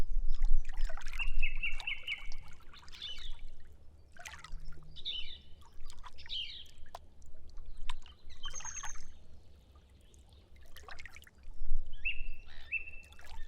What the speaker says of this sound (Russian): А как звучит вода?